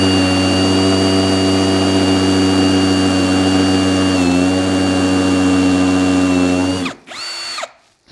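A hammer drill bores into the mortar between bricks with a loud, steady whining grind for about seven seconds, then cuts out, followed by a short final burst before it stops.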